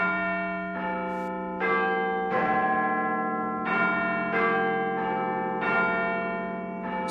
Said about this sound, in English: So if you don't know, this is Big Ben